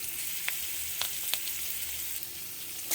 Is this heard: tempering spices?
yes